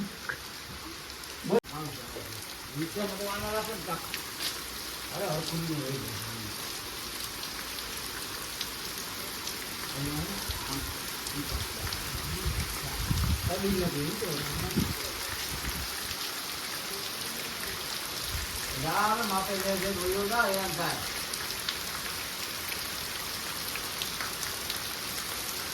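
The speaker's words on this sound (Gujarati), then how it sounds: "આમાં મિત્રો વરસાદ છે" Heavy rain pours down steadily in Nilakha, a dense constant hiss of drops on surfaces, while people talk intermittently over it.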